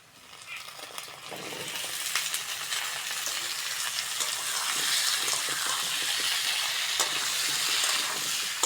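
Cut potatoes tipped into a pan of lightly fried onions, giving a steady broadband sizzle that swells and holds loud and close, with faint stirring clicks and no talking.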